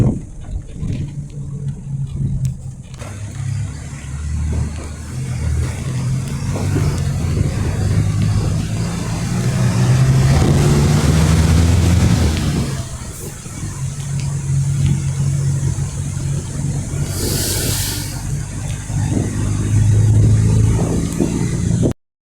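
A bus engine runs steadily on the road to Macapá, a continuous low rumble that swells and eases as it drives, loud and close from inside the vehicle, with no voices.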